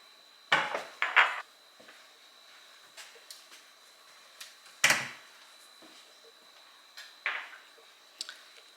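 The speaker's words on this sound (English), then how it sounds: "I'm going to grab that out the cabinet." Kitchen cabinet and jar handling while fetching dried Italian seasoning: several sharp clacks and knocks, a loud cluster near the start and another midway, with softer taps scattered between, close and without talk.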